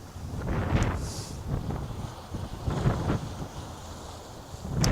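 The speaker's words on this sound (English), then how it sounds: "you can tell it's windy" Strong wind of roughly 10 to 15 knots buffets the microphone on a harbor waterfront by departing cruise ships, rumbling in uneven gusts with a low roar throughout.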